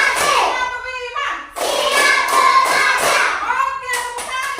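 Children in a classroom clapping their hands in a counted group clap, sharp rhythmic claps in bursts with a short pause, while a teacher and kids call out the count.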